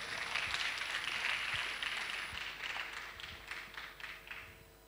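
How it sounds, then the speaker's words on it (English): A small audience at a university technology week session claps for an audience member coming up with questions. The scattered, fairly faint clapping thins out and fades toward the end. "Please let's give him a round of applause."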